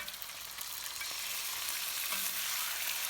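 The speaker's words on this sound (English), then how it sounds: "Next, add the chicken and continue frying." Chicken fries for a karahi in a pan with ginger, garlic and green chilies, giving a continuous, even sizzle with no talking.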